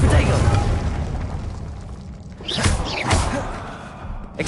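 Fiery Confringo blasting curse explosions from the wizarding game Hogwarts Legacy: two or three sharp booming bursts with whooshing tails, heard over a steady rumble of game sound while a voice talks.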